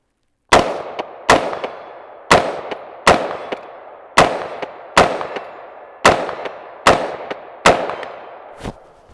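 Gunshots from an Inter Ordnance AR-15 rifle ring out, about ten sharp, loud reports spaced unevenly roughly a second apart, each trailing a short echo, with no talking.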